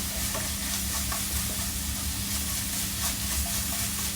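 Garlic and ginger fry in hot oil for an Indian-style curry, giving a steady, close sizzle with faint stirring scrapes throughout and no talking.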